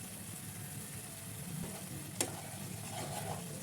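A spice paste with tomato paste, red chilli and sugar fries in a pan for potol dorma, giving a soft, steady sizzle throughout, broken once by a single sharp click midway.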